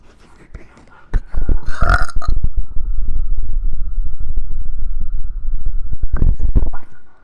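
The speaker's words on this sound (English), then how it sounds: "I need a burp." A long, loud, drawn-out belch rumbles close to the mic for several seconds, starting after a brief quiet moment and trailing off at the end, with no talking over it.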